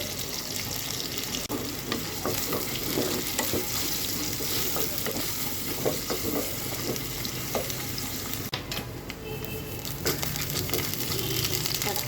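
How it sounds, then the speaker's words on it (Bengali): Chopped onion and ginger pieces frying in hot oil until browned for a beef leg soup, a dense continuous sizzle with frequent scraping stir strokes close by throughout, and no voices. "গরম তেলের মধ্যে দিচ্ছি টুকরো আদা পেঁয়াজ কুচি দিয়ে দিলাম বেরেস্তা করে নেওয়ার জন্য"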